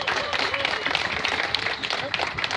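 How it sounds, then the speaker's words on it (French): Crowd applause at an outdoor rally against police violence in Lannion, a dense, continuous clapping texture with some voices mixed in. "il faut l'applaudir"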